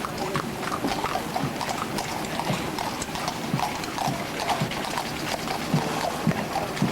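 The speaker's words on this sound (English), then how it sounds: "it's pulled by a pair of plumed Belgian black horses." Two plumed Belgian black horses pulling an 1884 hearse clip-clop along at a steady walking rhythm, their hoof strikes moderately loud and regular over a constant outdoor background hum.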